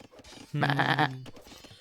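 Goats bleating in the Age of Empires video game, heard as one loud, wavering bleat standing alone in the middle of the clip, with quiet game ambience before and after.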